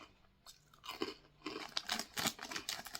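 Close crunching and chewing of sugar-coated deep-fried peanuts, with uneven bursts of crisp bites and quieter mouth sounds between them, and no talking.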